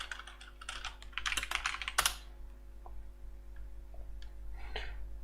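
Quick, close clicking of a computer keyboard as a kubectl command is typed, a rapid flurry of keystrokes followed by a few scattered taps over a steady low hum.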